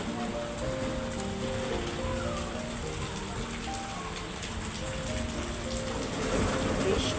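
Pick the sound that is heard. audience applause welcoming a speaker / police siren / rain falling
rain falling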